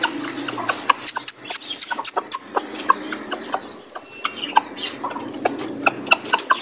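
Several chickens, including a sick hen that is not eating, cluck and squawk nearby in quick, irregular bursts, with scratchy rustling between calls and no talking.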